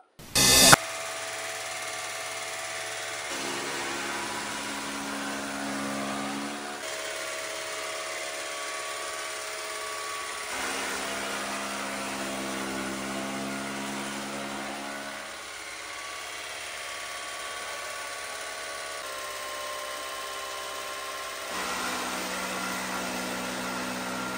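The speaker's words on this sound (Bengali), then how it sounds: "2024 সালে নিউ মডেলের খড় ঘাস কাটা মেশিন নিয়ে চলে আসলাম" A new 2024-model straw and grass cutting machine runs continuously with a steady motor drone, its pitch shifting slightly every few seconds as it works.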